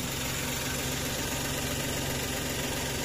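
A Suzuki DA64 mini van engine idles, heard as a steady, even rumble with faint vibration, continuous and fairly close with no voices.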